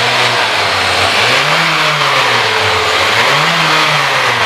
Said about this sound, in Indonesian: Nah, ini coba kita gas di 5000 RPM.